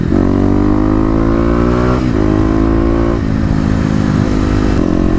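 A Kawasaki KLX250 motorcycle accelerates hard, its loud engine note rising through several gears with a brief dip at each shift, heard close and alone.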